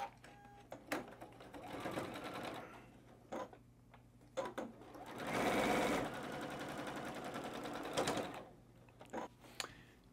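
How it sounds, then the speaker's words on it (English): A sewing machine stitches across the short edges of a fabric face mask, running in steady whirring bursts with pauses and a few clicks between them, close and fairly quiet. "we're gonna stitch all the way across both of these short edges with at least a quarter inch seam allowance"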